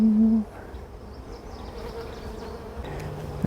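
Honeybees hum softly in an opened hive, a low steady drone with a brief louder buzz at the start, calm bees moving over comb with honey and larvae during a re-queening check.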